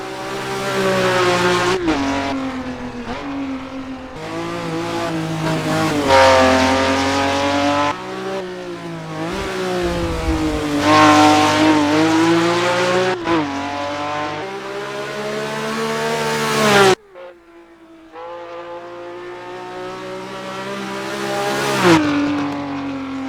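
A Ferrari 330 P4 race car in Assetto Corsa screams through its gears, engine rising and falling loudly with repeated upshifts and downshifts and brief tire squeal, close-up, with a short gap before the engine pulls hard again.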